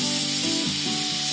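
Steam hisses loudly and steadily from a pressure cooker whistle on medium flame while spinach kadhi cooks, with a wavering tonal whistle running through the continuous spray-like rush and no talking.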